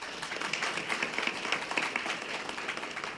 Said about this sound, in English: give them a motivational round of applause